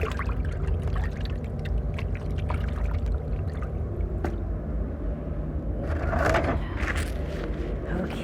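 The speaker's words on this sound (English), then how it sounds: "So I'm going to rinse my hands off one more time." Hands are rinsed under running water in an art studio after plaster work, a steady close-up splashing and pouring rush that goes on throughout and grows louder and more spattery near the end.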